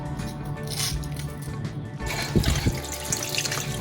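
Onion, sweet pepper, scallion and thyme being washed by hand in water, with soft splashing, squishing and trickling close by, moderately quiet and continuous.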